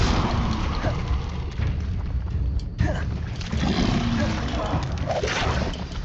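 Incendio fire spell cast in Hogwarts Legacy, a loud roaring whoosh and burst of flame with booming, crackling texture, dense and continuous over several seconds, with a voice talking over it.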